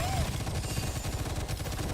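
Gunfire in the video game Gunfire Reborn crackles as a dense, continuous burst of rapid shots, low and thumping, sustained for the whole stretch with no pauses.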